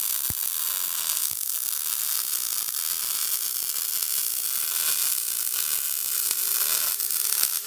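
Welder laying a weld, a steady dense crackling sizzle with a faint hum running unbroken throughout, close and fairly loud.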